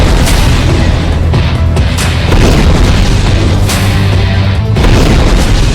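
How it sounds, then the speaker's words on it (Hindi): A loud, sustained roaring rumble like a massive blast, with heavy low-end boom that swells and surges throughout. "यह ब्लास्ट है, यह धमाका, यह अफरा तफरी"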